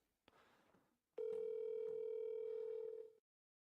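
A telephone starts ringing out for a sales call: a brief click and a faint, low tone come first, then a loud, steady tone that holds for about two seconds and stops abruptly.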